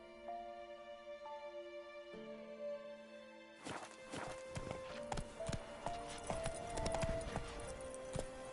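The horse Roach in The Witcher 3 walks with clear rhythmic hoof clip-clops, close and steady, over soft game music.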